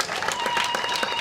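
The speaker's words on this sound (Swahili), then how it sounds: "kwa kweli naomba tuwapigie makofi tena" A crowd at a school graduation ceremony applauds, a brief burst of many hands clapping with a faint tone underneath.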